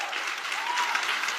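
An audience claps steadily at a prophecy sermon, a dense, even wash of applause throughout the short stretch.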